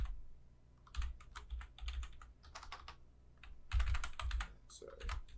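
Computer keyboard keys clatter in uneven bursts of quick, close typing, with short pauses between runs of keystrokes and no talking.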